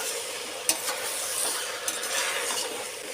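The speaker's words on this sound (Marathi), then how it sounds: "तर हे सगळं टाकल्यानंतर याला आता हलवून घेते" Homemade chili powder, asafoetida, turmeric, pulao masala and coriander stirred in a hot pan, a steady bright sizzle with a couple of sharp spatula taps, close and continuous, no talking.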